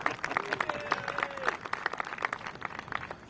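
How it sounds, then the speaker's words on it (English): Applause from a small crowd in the F1 2021 racing game's story mode, a steady patter of clapping with faint tonal sounds behind it and no one speaking. "Give yourselves a round of applause."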